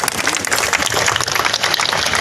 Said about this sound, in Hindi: अगर आप मेरी बात से सहमत है तो दोनों हाथ से जोरदार तालियां बजाना।